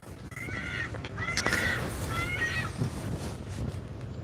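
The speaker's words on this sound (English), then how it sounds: "Oh, I hear seagulls." Seagulls call around a boat on an evening sail, giving several harsh, wavering cries over a steady background of wind and water.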